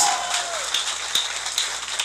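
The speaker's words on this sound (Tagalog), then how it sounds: "pumalakpak na malakas!" A seminar audience claps in a dense, steady patter of many hands, with a voice briefly audible over the start.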